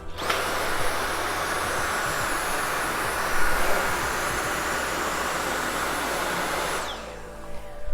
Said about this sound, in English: I'm going to just carry on and vacuum the whole of the carpet.